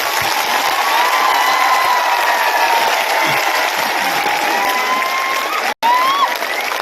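A crowd claps at a victory celebration in Hathai Kotor marking a signed accord, giving dense, sustained applause with scattered shouts and whistles that continues evenly throughout.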